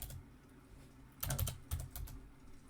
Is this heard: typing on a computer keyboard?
yes